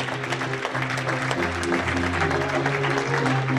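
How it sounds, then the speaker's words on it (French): An audience claps as players enter for a Pro B championship table tennis match between Roanne and Thorigné-Fouillard, a steady mid-distance patter of applause with a low hum beneath and no clear voices. "L'entrée des joueurs, on les applaudit s'il vous plaît."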